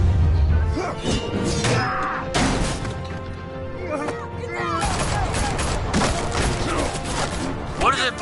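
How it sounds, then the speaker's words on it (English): Police gunfire in Batman: The Telltale Series, a loud burst of overlapping shots and crashing impacts in the game, with sharp cracks repeating across the clip. "What are the police shooting at me for?"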